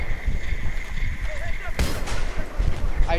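A wall blown apart by an explosion in the Battlefield 3 video game: a sudden sharp blast partway through, followed by a crumbling, rumbling tail, over a constant background of distant combat noise.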